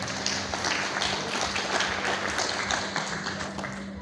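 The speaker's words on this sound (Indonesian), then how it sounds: "Aplaus dulu lagi" Audience applause at an Indonesian hospitality training session, a steady dense patter of many hands clapping across the whole stretch at moderate loudness.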